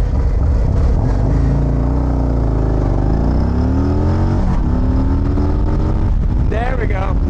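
A 2024 Harley-Davidson Road Glide accelerates hard from 0 to 60, its loud V-twin engine climbing through the revs with rising and falling pitch at gear changes, under heavy wind rush.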